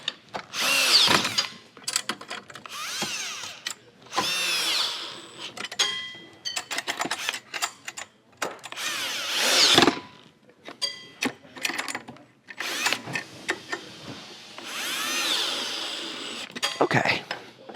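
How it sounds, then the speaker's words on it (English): A power drill snugging hand-tightened fittings on a XERO Pure MAX Plus water filtration unit, heard as several short bursts of whirring separated by pauses, close and moderately loud, with a person talking in between. "we're just going to go ahead and snug it in with the drill"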